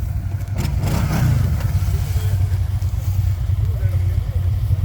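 A Can-Am XMR off-road vehicle's engine drones and revs steadily during an off-road hill climb, loud and close, while people talk over it.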